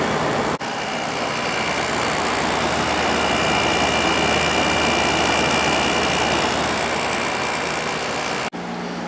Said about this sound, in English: The compressor just started back up, so I'm going to let it run for a while and build pressure.